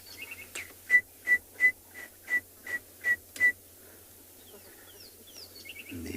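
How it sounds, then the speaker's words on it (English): A neddicky, a small cisticola, calls in South African bush during a morning safari, giving a run of about eight evenly spaced sharp chip notes, fairly near, followed by softer distant bird calls. "You can hear a neddicky going."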